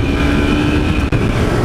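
Honda CG 150 motorcycle ridden on a short spin, giving a steady, loud engine drone with a brief dip near the end and no talk.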